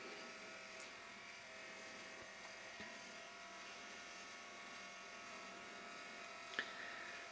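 A Centura shoulder CPM machine's second motor rotates the arm internally or externally while abduction is held in place, giving a faint, steady electric whir with a low hum and a couple of small clicks.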